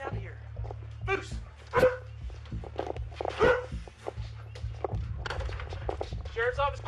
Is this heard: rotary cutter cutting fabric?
no